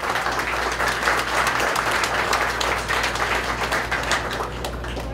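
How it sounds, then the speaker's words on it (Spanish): An audience at an environment and circular economy symposium gives sustained, dense applause. The clapping is steady and fairly loud from start to finish, with no break. "Le damos un fuerte aplauso por esta alianza."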